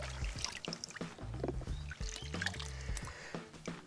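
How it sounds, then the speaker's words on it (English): Parts from a rainwater tank, including a filter, being washed in water: sloshing, trickling and splashing with knocking and handling of plastic pieces, close and irregular. "We wash these parts out in water."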